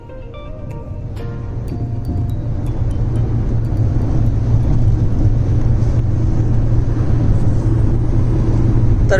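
A car cruises at night on a road trip to Goa, its engine and tyres making a steady, loud low rumble that builds slightly and then holds, with no voices over it.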